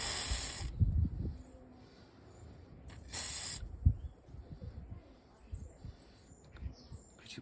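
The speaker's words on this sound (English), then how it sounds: "We're just going to put a little bit of WD-40 on that." WD-40 is sprayed onto the water pump of a Range Rover L405 5.0 supercharged in two short, sharp hissing bursts about two seconds apart, followed by faint handling knocks and rustles in a quiet workshop.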